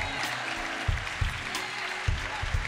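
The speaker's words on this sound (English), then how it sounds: "Give Barbara another round of applause." An audience at a Saturday morning political forum claps for a speaker's guest, with moderate applause mixed with a voice talking over it and a few dull low thumps near the microphone.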